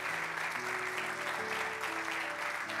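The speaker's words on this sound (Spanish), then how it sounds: "¿Qué tal si le damos un aplauso bien fuerte a nuestro Dios?" A church congregation claps loudly and steadily together, a dense sustained roar of hands with soft sustained keyboard tones underneath.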